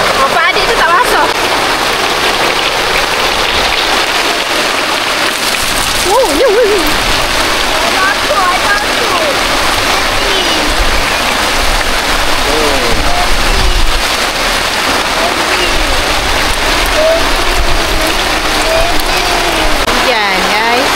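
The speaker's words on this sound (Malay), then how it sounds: "Hujan guys." Heavy rain pours at a campsite during the monsoon season, a loud, steady splashing downpour that runs unbroken throughout, with people talking underneath it.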